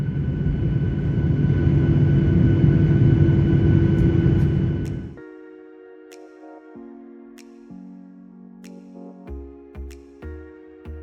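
The engines of a China Southern airliner roar loud and steady during departure for about five seconds, then cut off abruptly and are replaced by music.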